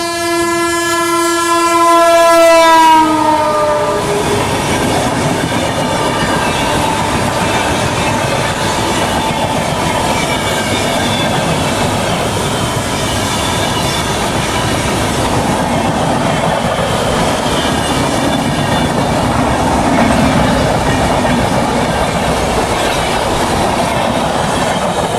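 The Banaras–New Delhi Superfast Express sounds a loud horn blast, then runs on with a steady rumble, rattling coaches and clattering wheels, heard from on board.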